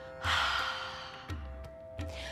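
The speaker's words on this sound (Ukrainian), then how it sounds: "робимо великий вдих через ніс, а на видиху через рот ми видаємо звук" A deep breath drawn in through the nose and pushed out through the mouth with a voiced sound during a morning Kundalini yoga practice, three strong breathy exhalations in a row, close and fairly loud.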